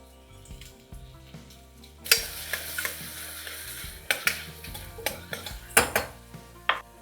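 Onions and green chili frying in oil with shahi jeera in a pot for bagara rice, with loud clanks of a utensil against the pan over a low sizzle, some sharp strikes and scraping stirs.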